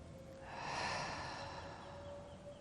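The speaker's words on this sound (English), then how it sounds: "Keep on opening your mouth when you're breathing out." A slow open-mouthed exhale during a relaxing yoga session, one soft breathy rush swelling and fading over a couple of seconds, close and quiet with a faint steady background tone.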